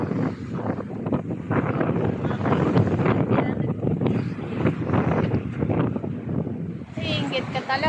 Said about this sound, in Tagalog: Medyo malakas ang dagat kasi medyo malakas ang hangin.